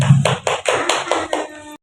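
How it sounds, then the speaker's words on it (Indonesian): A classroom of students clapping in applause for a classmate named Novia, a dense burst of hand claps swelling in rhythmic pulses for under two seconds, close and fairly loud, with no talking. "Beri tepuk tangan untuk Novia."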